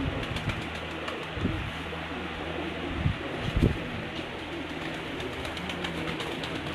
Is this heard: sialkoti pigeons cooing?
yes